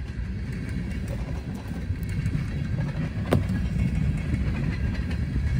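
A train rolls past on a railway, a steady, close rumble of wheels and cars filling the whole stretch without break, with a brief sharp squeal or clank partway through.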